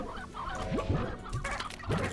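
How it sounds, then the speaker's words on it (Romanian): Chickens on a slime farm in the game Slime Rancher cluck in short, scattered bursts over a busy game backdrop, fairly close but not loud. "Găină, ce faci? Găină, pleacă."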